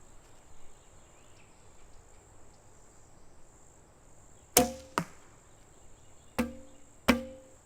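Four sharp arrow releases from a traditional bow: two close together, then two more after a gap. One shot makes an odd, unusual noise. A steady insect chirp runs faintly in the background and no one speaks.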